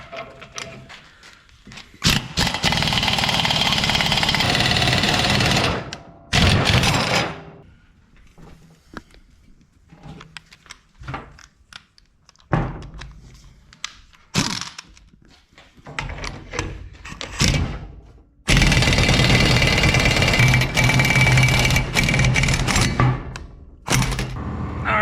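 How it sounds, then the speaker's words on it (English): A ball joint tool presses the ball joint out of a 1997 Ford F250 truck, heard as loud bursts of grinding mechanical noise separated by quieter gaps of clunks and rattles. "it'll press the ball joint out"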